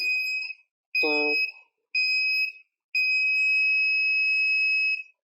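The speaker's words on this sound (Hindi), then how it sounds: "हमारे बजर से 3 दफ़ा एक छोटी टोन और फिर एक लंबी टोन की आवाज़ है" A piezo buzzer driven by an Arduino kit board gives three short, shrill electronic tones and then one long sustained tone. A brief voice is heard between the first beeps.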